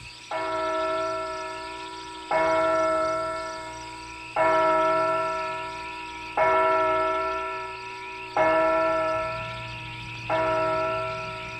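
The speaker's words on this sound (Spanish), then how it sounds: "El reloj dio 11 campanadas." A deep clock bell strikes eleven times slowly and regularly, each heavy chime ringing out and fading before the next, about every two seconds.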